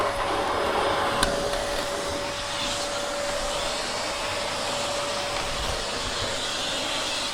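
A Hoover H Upright 500 Sensor Plus upright vacuum cleaner runs with a steady, continuous airy hum and motor whine, with a faint click near the start, fairly close.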